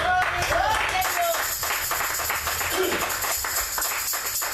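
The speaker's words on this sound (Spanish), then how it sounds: "Démonos un aplauso" A church congregation applauds during a service, a continuous wash of clapping from many hands with voices calling out over it.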